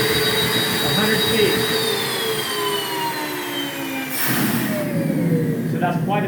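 A carpet cleaning extractor's vacuum motor, from a Rotovac Monsoon or Mytee Breeze comparison, runs with a loud, steady whine, its pitch shifting and sliding, with a sharp hiss burst partway through.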